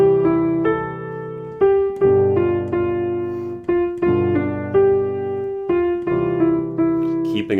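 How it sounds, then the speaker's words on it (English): Piano plays the carol O Christmas Tree in a simple beginner arrangement, a clear melody over light chord accompaniment with evenly spaced notes, close and moderately loud, no talking. "So that's "Oh Christmas Tree" for complete beginners at the piano."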